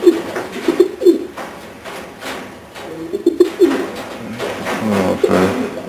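A blue bar Janssen racing pigeon coos in a loft, giving repeated close, soft throaty coos in short phrases over a low room background.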